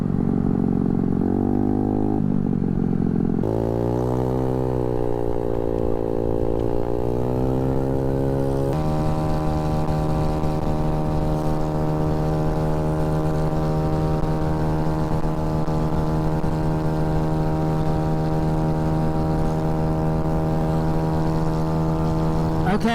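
Honda Ruckus 49cc scooter engine riding at top speed into a headwind, a steady droning buzz that climbs in pitch early on, then holds a constant high whine, close and loud with wind rush.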